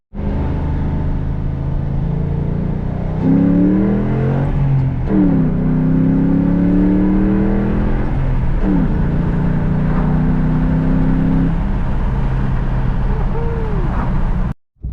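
A car engine fitted with a cold air intake rises and falls through several revving pulls, with audible intake sound and rising whines as it accelerates, loud and continuous before cutting off abruptly.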